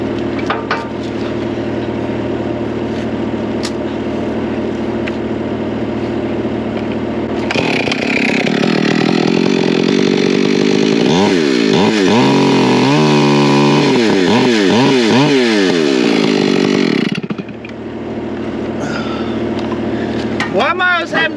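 Chainsaw cutting wood lodged in a CAT excavator during Florida land clearing, a loud revving saw that idles, then bites in with rising and falling engine pitch for about ten seconds before dropping back to idle.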